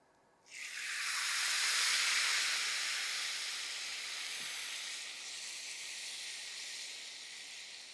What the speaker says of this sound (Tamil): நான் இப்போ காய்ச்சின பால் தான் சேர்க்குறேன்.